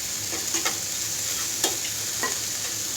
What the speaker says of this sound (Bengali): এবার অপেক্ষা করবো একটু ভাজা ভাজা হওয়ার জন্য